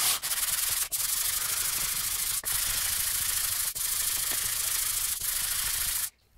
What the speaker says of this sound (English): To really do a good job of sanding, you're going to need to push down kind of hard on it.